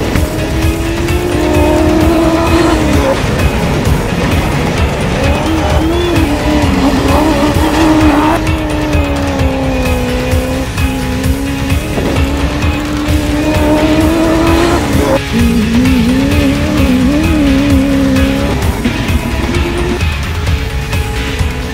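Toyota Hilux Dakar race car, the new 2015 build, driven hard and loud and close, engine revving and dropping through gear changes with tire squeal and skidding throughout.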